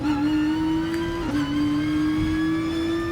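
A car engine in the Gran Turismo Sport racing game holds a loud, steady whine that edges slightly higher in pitch, with one brief blip partway through and no one talking.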